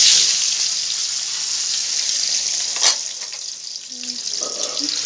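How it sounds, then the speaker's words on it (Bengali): Potatoes fry in oil in a pan, giving a steady, close hiss and sizzle throughout, with faint clinks of stirring. "একটু হালকা ব্রাউনি করে একটু ভেজে নেব।"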